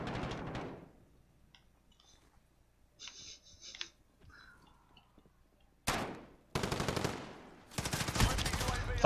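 Video game gunfire rings out as sharp automatic bursts, mostly near the end, following quieter scattered clicks and small noises. Brief voices can be heard in the gaps.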